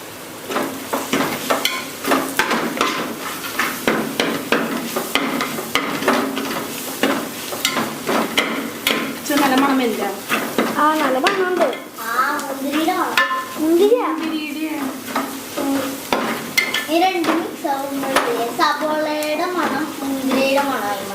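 Beef curry masala sautéing and sizzling in a pan, a spoon stirring and scraping steadily as it browns, close and fairly loud, with talk over parts of it.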